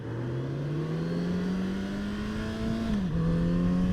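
A 2019 Kawasaki Z900RS Cafe motorcycle ridden slowly in third gear gives a steady, mid-pitched engine drone that climbs gently, then dips briefly before settling again. No one speaks.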